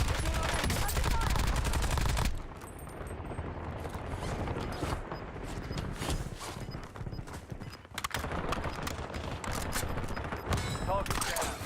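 Rapid bursts of automatic gunfire in the video game Warzone, loud and dense, dropping briefly to scattered shots before heavy firing resumes, with game voice callouts in the mix.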